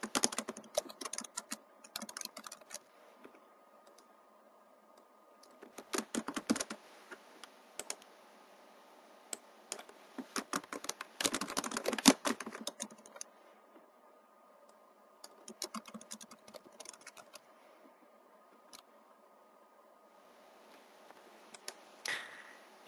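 Keystrokes tapped out on a computer keyboard while a photo description is entered, coming in irregular bursts of quick clicks separated by short pauses, close and clear with no voices.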